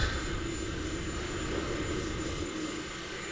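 An aircraft engine roaring at full throttle for takeoff, a dense, steady, loud drone heard close up from the cabin, with no talk.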